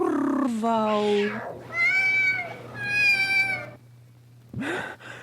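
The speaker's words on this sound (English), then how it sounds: "Here, kitty, kitty, kitty. Nice, kitty, kitty." A cat meows twice in long, drawn-out cries, close by, after a person speaks, with a short voiced sound at the end, in a radio drama.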